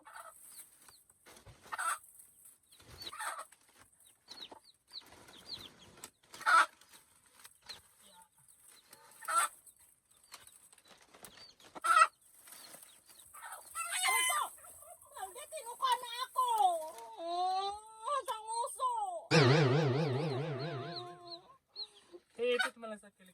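Native chicken chicks peep in short, high chirping bursts on a small farm near a Filipino nipa hut, with fowl clucking and honking nearby. People talk intermittently between the calls, and a loud, harsh burst comes near the end.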